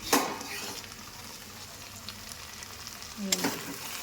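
Shrimp and taro flowers fry in an open pan with a soft, steady sizzle, framed by louder scraping clatters of a utensil at the start and near the end.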